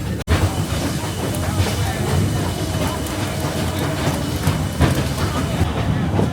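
An Oregon Coast Scenic Railroad train rolls steadily along the tracks past Lake Magruder with a continuous rumble and faint clacking, heard from on board at close range.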